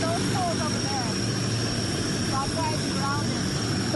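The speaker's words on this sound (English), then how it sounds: "this is a Hercules aircraft landing at the airport in Norway House today" A Hercules aircraft landing at the Norway House airport during a wildfire evacuation gives a loud, steady engine roar with a high whine, and chirping birds are heard over it.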